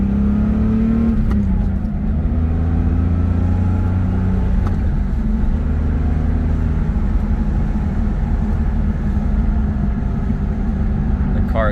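A 1977 Porsche 911 Targa on a road test drive, its engine droning steadily and loudly throughout with road noise and no clear changes in pace or distinct revs.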